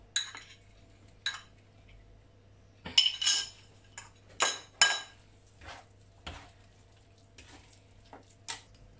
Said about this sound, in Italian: vado a mantecare con burro e parmigiano